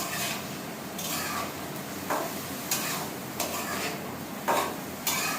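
Bay leaf, garlic, onion and dried chili fry in a pan with a steady sizzle, broken by occasional scraping clinks of a stirring utensil against the pan.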